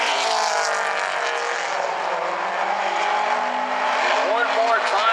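Late model stock cars racing on the South Sound Speedway oval in an FSCRA A-Main, a dense, loud steady roar of several engines droning together, with pitch sweeps as cars go by near the end.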